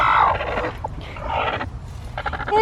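Broody chicken hens in a backyard flock give short, throaty clucks and squawky calls in separate bursts, fairly close and without talk.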